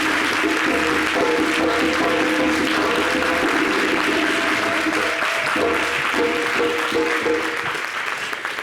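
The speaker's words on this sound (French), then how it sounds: "On applaudit maintenant." A crowd claps loudly and continuously, with a steady tonal hum running beneath the applause throughout.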